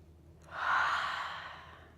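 A single deep, slow exhale during yoga breathwork, heard close and soft: a breathy airy rush that swells in the first second and then tapers gradually away, with no talking.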